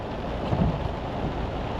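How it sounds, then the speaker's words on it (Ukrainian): Steady rain falls at night in New York, a dense, even hiss of heavy downpour with low rumbling underneath, continuous and close, with no voices. "Певно, що зараз дощ пішов"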